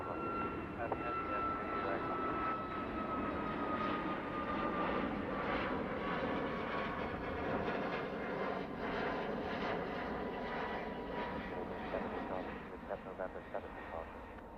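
A Qatar Airways Boeing 777 departing Heathrow in the evening, a steady broad jet roar with a sliding high whine, sustained throughout, with ATC radio chatter and a voice talking over it.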